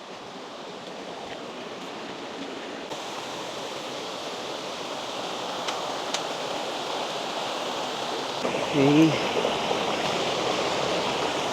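A river stream rushes near a waterfall in a steady, dense roar of flowing water that runs the whole time, with a brief spoken word near the end.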